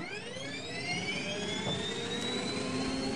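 Jet-fuel bedrock breaker machine in a video game running with a loud, steady jet-engine roar and rising whine that holds throughout, with no talking.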